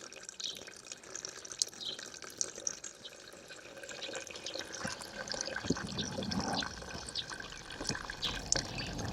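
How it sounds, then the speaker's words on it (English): Diesel draining from the bottom of a Fiat Ducato fuel filter, a steady trickling liquid flow with small drips that grows a little louder and fuller toward the end, heard close with no talking. "Just open it right up now. Let the rest of the diesel out."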